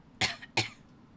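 Two short, sharp coughs from a game character in Dragon Quest XI S, close and clear with a brief gap between them.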